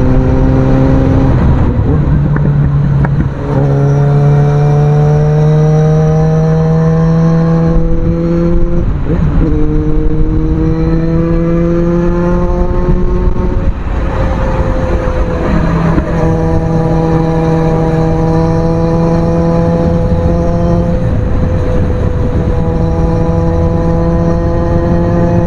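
A Suzuki Bandit 650 motorcycle riding at speed, its engine droning loud and close with rising pitch through each gear, brief dips at shifts, wind rushing steadily throughout.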